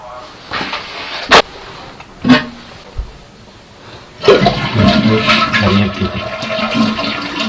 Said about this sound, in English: We got to get the tank completely empty.